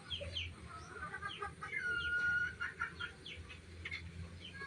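A flock of backyard chickens with their small chicks, soft repeated clucks and thin high peeping calls scattered throughout at moderate distance, no talking.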